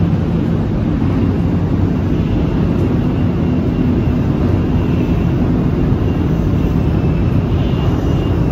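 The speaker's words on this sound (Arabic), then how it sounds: "عايز اوريكم برضو القطر من جوه عامل ازاي الشين كانسن" Cabin noise inside a Shinkansen bullet train in Japan between Osaka and Tokyo: a loud, steady, unbroken low roar and rush with no change throughout.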